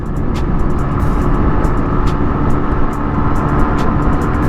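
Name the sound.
Yamaha RX-135 two-stroke motorcycle being ridden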